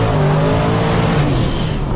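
A supercharged Chevy Chevelle accelerating at full throttle, its engine roaring loud and close in a continuous, slightly rising drone with no talk over it.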